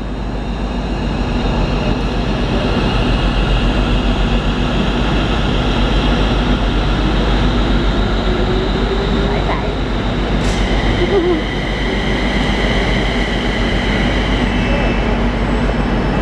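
A TransPennine Express train in new livery at Preston station fills the platform with a loud, steady rumble and hum that holds constant throughout, with faint higher-pitched tones layered on top.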